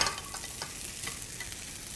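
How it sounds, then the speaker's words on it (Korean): Chopped tteokgalbi, Korean short rib patty meat, stir-fried with onions in a pan, giving a steady close sizzle with soft scraping stirs throughout. "여기에 아까 잘게 다져놓은 떡갈비 넣어서 함께 볶아주세요."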